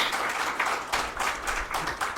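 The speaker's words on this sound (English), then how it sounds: "I will like you all to please applaud for Sanjay ji" An audience at an AMA Ahmedabad talk applauds, with dense, steady clapping from many hands filling the whole stretch at close range.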